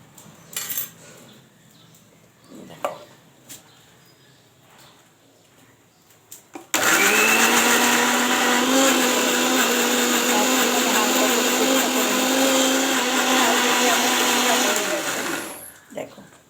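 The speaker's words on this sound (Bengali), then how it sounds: "ওখানে আছে লঙ্কা, ধনেপাতা, আদা আর রসুন কুচি। তো আমি এটাকে পেস্ট করে নেব, হালকা করে পেস্ট করে নেব।" An electric blender grinds chopped chili, coriander leaves, ginger and garlic into a paste, starting with a sudden loud, steady whirring roar that runs for about nine seconds after a few quiet kitchen clatters.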